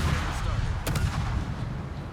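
Naval gunfire rumbles in World of Warships as dull, distant booms, with one sharper crack standing out over a steady low battle drone and a voice talking.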